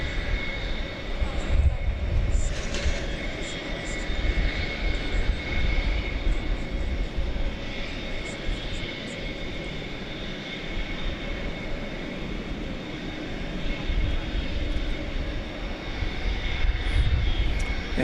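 A Boeing 727 jet on the runway at DFW Airport gives a loud, steady engine roar with a sustained high whine that holds for the whole stretch and swells slightly near the end.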